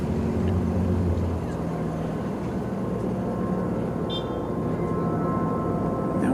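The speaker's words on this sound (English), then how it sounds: "So there's the flight from Heathrow touching down" American Airlines airliner from Heathrow touching down at DFW airport, a steady broad roar of engines and rushing air heard from a distance, continuous and fairly loud, no talk over it.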